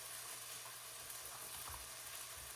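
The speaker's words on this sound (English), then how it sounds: "I hear the chicken cooking" Chicken sizzles steadily in a pan while cooking for a pumpkin curry soup, a faint continuous crackle that runs alone throughout, with no talk over it.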